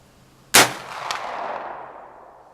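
A single sharp gunshot from a US Model 1884 Trapdoor Springfield rifle, loud and close, followed by a fading outdoor echo and a brief ringing clang.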